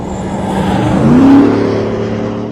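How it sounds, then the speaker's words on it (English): A car fitted with a Borla Touring exhaust revs once, the deep engine note swelling and then easing off over a couple of seconds, loud and close with no one talking. "Borla's Touring exhaust is only slightly louder than stock, but the note is noticeably different"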